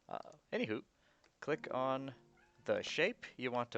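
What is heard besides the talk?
cat meowing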